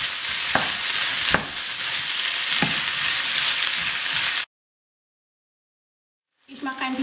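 Zucchini, minced meat and cream cheese sizzle steadily in a frying pan while being stirred, with a few sharp scrapes, before a sudden drop to silence and a brief return of sound at the end.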